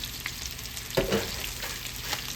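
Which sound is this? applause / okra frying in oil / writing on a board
okra frying in oil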